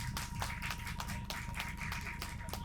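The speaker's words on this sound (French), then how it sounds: "Est-ce que vous pouvez applaudir, s'il vous plaît, Guillaume et Pauline?" Applause and clapping from an audience on a stage at the Pocardheim 2025 card event, steady and fairly close, with a low hum underneath throughout.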